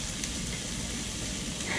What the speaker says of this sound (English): That's the sound we like to hear, nice sizzling